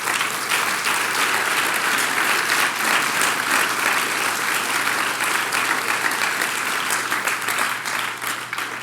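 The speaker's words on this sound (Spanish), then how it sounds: "¿Le das un aplauso a Él?" A church congregation applauds steadily and densely for nearly nine seconds, a full room of clapping hands that thins slightly toward the end.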